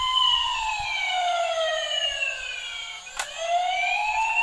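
A toy fire truck siren just switched on wails in loud, sweeping electronic tones that rise and fall repeatedly, with one brief sharp click partway through.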